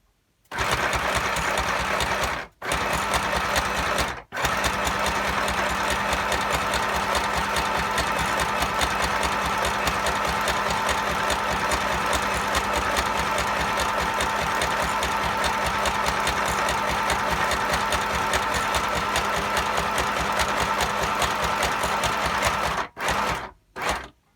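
A sewing machine stitches fabric through a handmade junk journal, running as a continuous close mechanical whirr with rapid even rhythm for about twenty seconds, with two short stops near the start and a stop at the end.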